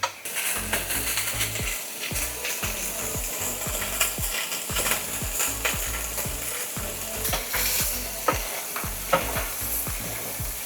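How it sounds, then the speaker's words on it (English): Steady sizzling of pork belly stir-frying in a hot pan, its fat rendering, with frequent scraping and clacking as a utensil stirs it. "we're going to be stir frying, add a little bit of color, rendering out some of the fat."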